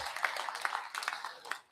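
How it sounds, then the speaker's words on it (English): An audience claps at a real estate investors' meeting, a light, fairly faint patter of hands that stays steady and trails off after under two seconds. "Big round of applause for you guys"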